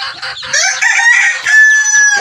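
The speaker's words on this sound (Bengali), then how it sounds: "মুরগির বাচ্চা, দেশি মুরগির বাচ্চা।" Desi chickens cluck and crow loudly and close by, with a short rooster-like call rising over a brief burst of clucking, the chicks among them.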